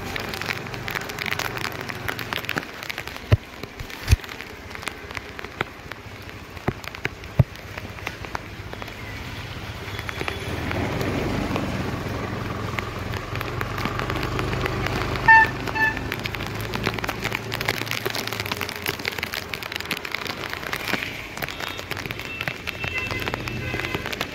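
Rain falls outdoors, heard from inside a moving car on narrow lanes: a steady, dense wash of patter and road noise that holds throughout, with a few sharper knocks early on and no clear talk.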